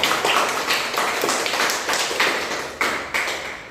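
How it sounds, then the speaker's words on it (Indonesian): A small group of classmates clapping during a micro-teaching lesson, a few hands producing rapid, uneven broadband claps that pulse for a few seconds, close and fairly loud with no talking. "Kepada teman-teman, silahkan beri aplaus kepada Anda."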